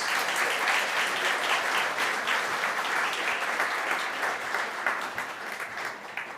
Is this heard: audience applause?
yes